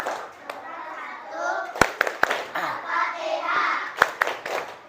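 Second-grade schoolchildren chant a rhythmic clap song in chorus, their voices carrying the tune while a few sharp, loud claps land at intervals.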